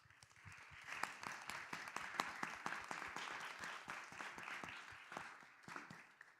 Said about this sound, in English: Can we get another round of applause for our presidential candidates?